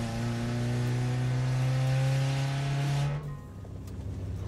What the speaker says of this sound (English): It sounds like a rally car.